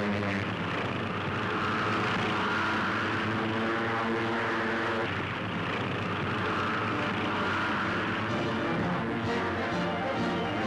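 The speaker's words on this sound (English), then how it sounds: "The Army and Navy combining forces to deliver entire squadrons of fighting planes" Squadrons of US Army and Navy propeller fighter planes fly over in a continuous, loud, droning roar of engines that holds steady for about ten seconds, with no talk.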